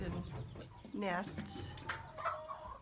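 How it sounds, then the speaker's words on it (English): A hen clucks close by in short, throaty bursts, with soft background noise and a few rustles around the nesting boxes. "I'm being attacked by a chicken."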